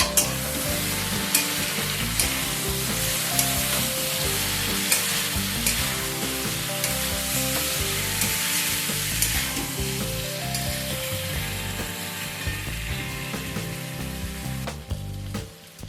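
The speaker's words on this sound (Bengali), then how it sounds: "চিকেনটাকে প্রথম তিন থেকে চার মিনিট হাই ফ্লেমে ভালোভাবে কষিয়ে নেব" Chicken frying on high flame in a pan with tomatoes and onions, a loud continuous sizzle under a low burner roar, with regular spatula scrapes and stirs throughout.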